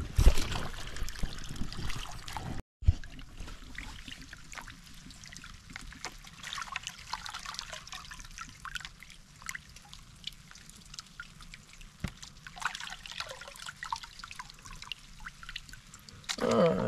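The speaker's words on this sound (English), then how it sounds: "Let's get a little power wash here and run that down." A power washer runs water over gold prospecting material in the Mother Lode, a continuous trickling, splashing stream with scattered drips, fairly close, with brief talk at moments.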